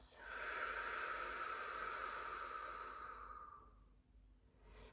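A long, deep breath let out through the mouth during a guided relaxation exercise, a steady breathy hiss lasting several seconds and fading out, close and alone.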